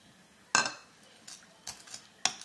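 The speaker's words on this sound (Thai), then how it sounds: "And you have to mix it together" Lao dipping sauce for mango being mixed in a bowl, a few sharp spoon clinks against the dish, one loud strike then lighter taps, close and fairly quiet.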